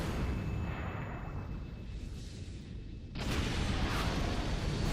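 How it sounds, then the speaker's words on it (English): A big explosion in the Fate/Stay Night visual novel: a low, rumbling roar builds and then bursts into a loud, broadband blast that keeps thundering to the end. "Well then, that's an explosion."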